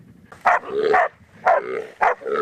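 Dogs bark loudly and close by, several sharp barks in quick bursts with brief pauses between them.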